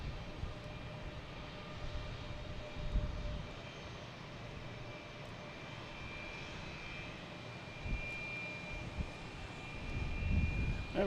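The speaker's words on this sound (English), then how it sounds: "another Cape Air taking off. Heading to Nantucket." A Cape Air commuter plane takes off from Boston Logan Airport bound for Nantucket, its engine drone steady and moderately distant, swelling slightly at the end against airport ambience.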